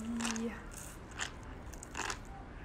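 Three crisp, close bites into a crunchy grilled meat skewer from a Chinese street stall, spaced about a second apart, with a short tone at the start.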